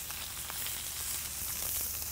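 Blackened flounder fillets sear in a hot pan with a steady, close sizzle and crackle, no voices over it.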